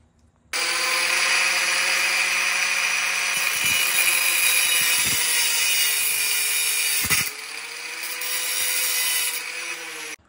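A length of threaded rod being cut with a power tool to make a long thin bolt, a loud continuous close grinding whine that briefly dips near the end before resuming.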